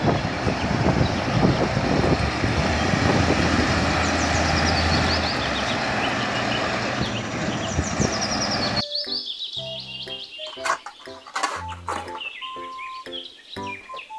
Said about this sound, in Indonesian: mobil dam truk